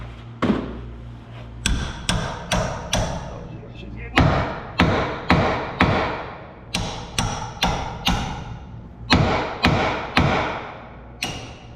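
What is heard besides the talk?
hammer tapping a tapered steering shaft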